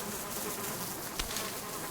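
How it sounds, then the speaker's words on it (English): A swarm of bees around beehives buzzes in a steady, dense drone that holds evenly for the full two seconds, with no voices over it. "Yeah, the bees."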